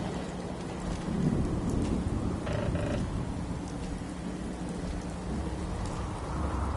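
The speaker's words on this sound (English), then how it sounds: "Just thinking how wonderful it'd be to get out of this infernal rain." Steady rain in the video game Fallout 4 pours throughout with a low, continuous hiss, and a soft rumble of distant thunder rolls in briefly near the start, with no voices heard.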